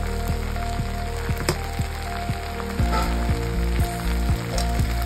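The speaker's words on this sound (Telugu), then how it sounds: "మంచిగా కలుపుకుంటే బెండకాయలు అనేవి మాడవన్నమాట, మంచిగా ఫ్రై అవుతాయి" Okra sizzling steadily in a hot pan with salt and turmeric, a dense continuous frying crackle with a few louder pops and light stirring taps near the end.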